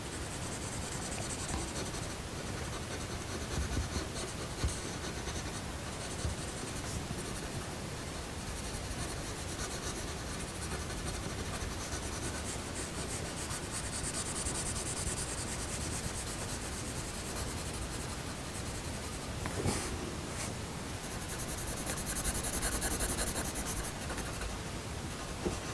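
A coloured pencil scratches steadily across paper, filling in solid tone to draw denim, producing a continuous close, dry rubbing texture with no talking.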